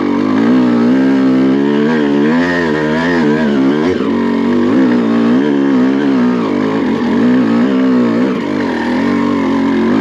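A Honda CR250 two-stroke motocross dirt bike rides in first gear, its loud, raspy engine note close and continuous, rising and dipping in pitch as the throttle opens and eases off.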